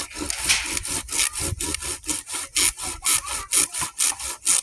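A hand saw cuts through wood in steady back-and-forth strokes, each rasping pass close and clear, speeding into a quick regular rhythm.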